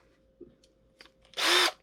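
A handheld power drill, of the kind used for cleaning a dryer vent duct, whirs in one short, loud, close burst lasting under half a second. A couple of faint clicks and knocks come before it.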